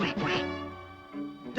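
A cartoon duck quacks in a raspy, nasal burst, mixed with voiced sounds, close and fairly loud.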